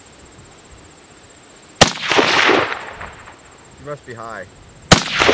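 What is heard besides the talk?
SKS paratrooper carbine rifle shots on farmland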